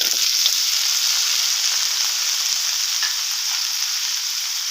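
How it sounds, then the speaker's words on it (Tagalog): Onions, garlic and carrots fry in a pan with a loud, dense, unbroken sizzle that holds steady throughout, with no voices. "Once the onions and the garlic are golden brown, you can now throw in the carrots."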